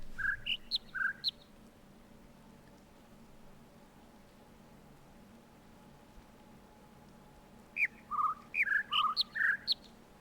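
Short sequences of bird chirps in a video game puzzle, a quick run of four or five bright tones at the start, then quiet, then a longer, denser burst of about eight chirps near the end, clear against a faint hum.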